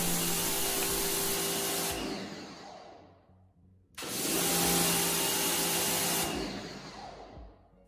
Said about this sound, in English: as you hear there's a lot of air all the time into the hose